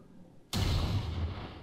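A single loud gunshot in the video game XCOM 2: War of the Chosen bursts out suddenly, followed by a sustained booming rumble that lingers, with no voices.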